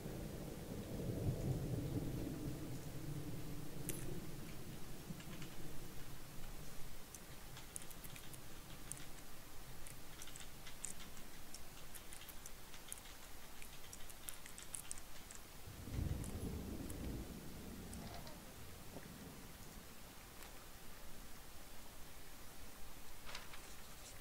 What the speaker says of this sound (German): jetzt ein Sturm anfängt und dass der natürlich auch so schnell aufzieht